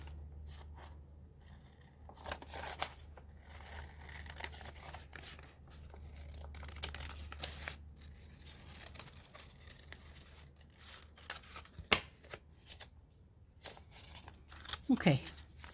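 Paper being cut for an art journal: scattered crisp snips and rustling crinkles, faint and close, with louder scissor cuts and handling noise near the end.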